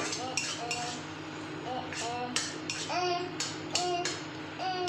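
Pointed gourd in a milk-based vegetarian dish sautéed in a pan, heard as quiet metallic clinks and scrapes of a spoon against the pan, while a young child babbles nearby.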